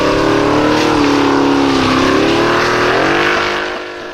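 A formula offroad car's engine roaring as it climbs a hill at Stapafell in Iceland, loud and sustained, its pitch sagging and rising as the throttle eases, then fading slightly at the end.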